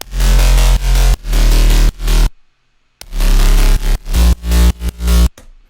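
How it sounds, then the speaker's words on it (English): Three stacked bass patches led by a gritty driving bass, loud, heavy low-end blasts in choppy rhythmic bursts with a clean silent break partway through and a sharp cutoff at the end. "The next part of this is the bass, which sounds like this altogether."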